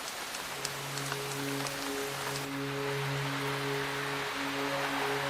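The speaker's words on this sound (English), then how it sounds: "It rains here nearly every day." Rain falls in the wet western forests of Tasmania, a dense steady hiss of drops that holds throughout, with a low tonal drone running beneath it.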